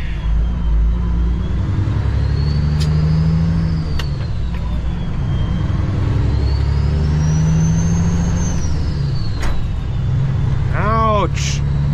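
A truck engine drones loud and close from inside the cab, its pitch rising and falling as the driver works through the gears, with a voice talking over the rumble.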